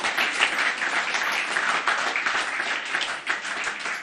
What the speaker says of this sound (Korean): 우리 박수 한번 보내주시기